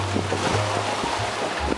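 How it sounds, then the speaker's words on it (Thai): Strong wind and waves on Lake Toba, heard from aboard a ferry, make a loud, constant rushing roar with a low rumble underneath. "บรรยากาศมหาสมุทรกัทะเลครับคลื่นลมแรงมากๆ"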